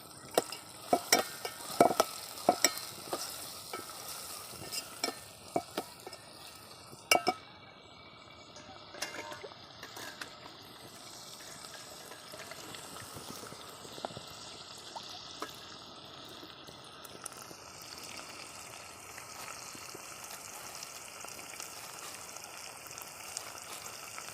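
Whole spices, onion, garlic, bay leaf and tomato fry and get stirred in a pan over a village wood-fired stove for spicy chicken curry, with sharp clatters of stirring early on, then a steady soft sizzle.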